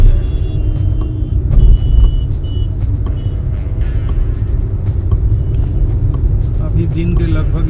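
A car driving through busy Patna traffic, continuous low engine and road rumble with scattered clicks and brief horn-like tones, someone talking over it.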